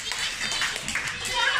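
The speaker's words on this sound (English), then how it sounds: "Clap your hands," Scattered clapping from a talent show audience of children and adults, a steady patter of hands with children's voices chattering over it.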